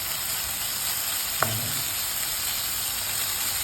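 Fenugreek greens in a stir fry sizzle with a steady, even hiss, and a single brief utensil clink sounds partway through.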